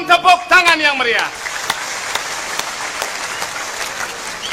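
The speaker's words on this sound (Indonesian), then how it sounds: "Penonton tepuk tangan yang meriah." Audience applause at an Indonesian stage quiz show within a drama gong performance, swelling after a host's voice and continuing as steady, moderately loud clapping to the end.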